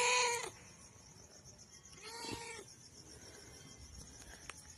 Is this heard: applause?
no